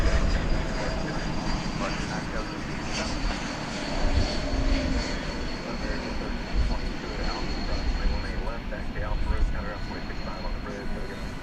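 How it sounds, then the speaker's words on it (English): Airbus A350-1000 turning onto runway 18 left at DFW Airport at night, its jet engines giving a steady loud rumbling whine with a thin high tone, while people talk over it. "A350-1000 turning onto runway 18 left for takeoff"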